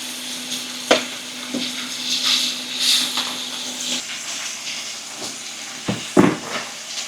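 Steak searing in a very hot pan gives a loud continuous sizzle and hiss, with a few sharp knocks and scrapes of handling mixed in.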